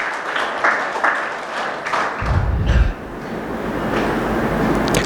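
Audience clapping for a child at a summer camp inaugural session indoors, a moderately loud burst of applause with rumbling low noise partway through, continuing steadily to the end.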